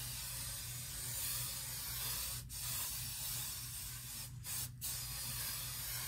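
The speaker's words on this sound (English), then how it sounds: "And I'm just gonna spray some hairspray in it." A continuous hissing spray from a hairspray can, close and steady, broken by a few brief pauses.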